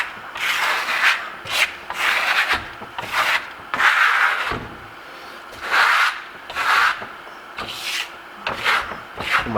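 Steel trowel pressed and dragged across Venetian plaster on a wall, a series of rough rasping scrapes in uneven strokes, close and fairly loud, with no speech.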